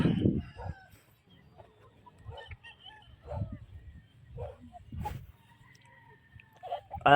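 Chickens on a game farm cluck in scattered bursts, with a rooster crowing and a dog barking at moments, fairly close against a quiet background.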